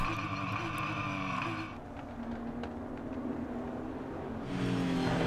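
Renault Sport Trophy race cars pulling away from the start at Jerez, a dense roar of several engines revving hard, dipping briefly as the pack moves off, then swelling again, loud and continuous with no talk.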